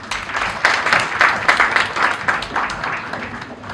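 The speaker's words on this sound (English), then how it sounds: "Let's give them all a warm round of applause." An audience at a school farewell celebration at GD Goenka, Agra claps for the seniors, many hands together making a dense, lively burst of applause that swells and holds for several seconds, close and loud.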